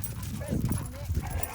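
A young Australian working dog, a female about 16 months old, gives a few faint yips and whimpers outdoors in a park, mixed with low rustling and nearby voices.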